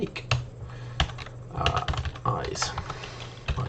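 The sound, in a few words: typing on a computer keyboard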